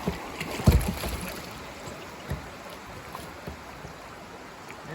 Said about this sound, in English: Woo, the rapids!